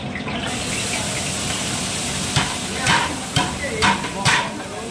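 Garlic fries in a large pan of oil at an outdoor pav bhaji cookout, a steady close hiss with several scraping stirs of a ladle toward the end.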